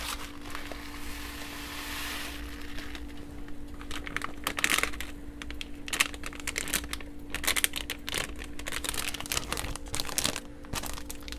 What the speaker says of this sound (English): I'm going to put in my instant brown rice